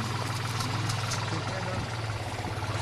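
A tractor engine idles close by with a steady low mechanical throb and rattle that runs unbroken throughout, with voices faintly mixed in.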